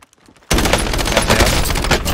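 Ram-7 assault rifle in Call of Duty Warzone fires a sustained, rapid automatic burst that begins abruptly after a brief quiet moment and stays loud and close throughout.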